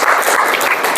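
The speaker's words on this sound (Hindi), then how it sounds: "एक बार जोरदार ताली इस बात के लिए।" An audience at an IAS honour ceremony gives dense, loud applause in a brief burst of clapping.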